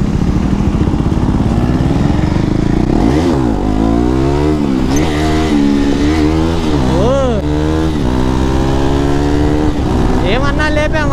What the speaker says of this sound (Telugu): సడన్ గా స్ట్రీట్ ట్రిపుల్ వచ్చింది జమ్ జమ్ జమ్ అంట